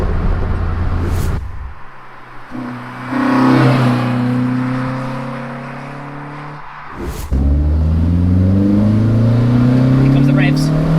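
A naturally aspirated Renault Clio 172 engine revs loudly from inside the car, rising and falling through several pulls with gear changes between bursts, throaty and close.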